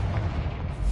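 A Confringo blasting spell goes off in Hogwarts Legacy with a loud, dense boom that fills the short moment, heavy in the low end, close and alone with no talk.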